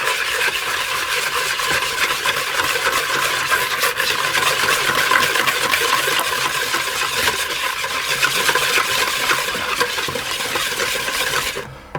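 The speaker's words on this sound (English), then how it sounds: "I'm going to just give those a whisk to get those mixed together" Eggs and sugar are whisked together in a large bowl, a fast, continuous and fairly loud rattling whir of metal tines that runs without pause before stopping abruptly.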